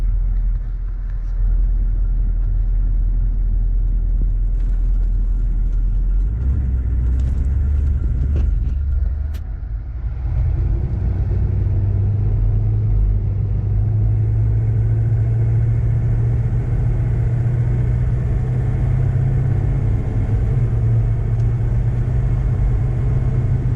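A Hummer H1 drives along back roads, its engine a steady low rumble close by, with a brief dip in the noise near the middle before the drone settles and holds level.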